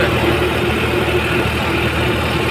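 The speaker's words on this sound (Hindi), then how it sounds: "घू घू कर रहा ट्रैक्टर" A tractor engine runs outdoors at a grain market on a cold day, a steady close drone with no pauses and no talk over it.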